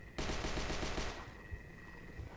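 A rapid automatic burst of gunfire in the HordeZ VR video game rattles loud and close for about a second, then gives way to a quieter background hum.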